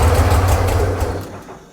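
A fuel-injected Corvair engine, previously flooded, runs roughly with a low rumbling idle, loud and close, then fades as it sputters and dies.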